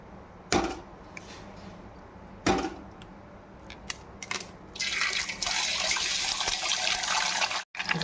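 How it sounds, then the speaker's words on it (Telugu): An egg is cracked into a pan of hot oil for restaurant-style egg fried rice: a couple of sharp taps, then a loud, close, steady sizzle rises and keeps crackling to the end. "ముందుగా గుడ్డు పగలు కొట్టుకొని దాంట్లో వేసేసుకుందాం."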